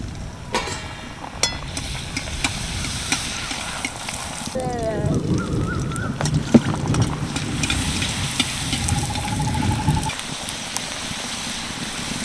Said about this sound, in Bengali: একইভাবে আমি সব ফুচকাগুলো ভেজে নেবো